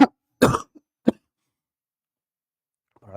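A few short coughs, close and sharp, separated by silence, followed by a faint voice starting at the end.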